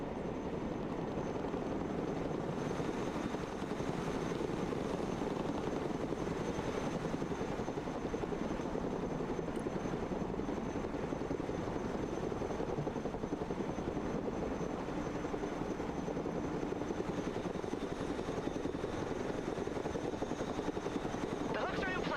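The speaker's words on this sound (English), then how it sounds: "Let's go and recover it with our helicopter." Helicopter flying in the real-time strategy game Broken Arrow, a continuous whirring rotor and engine drone heard at steady level throughout, with a voice talking over it at times.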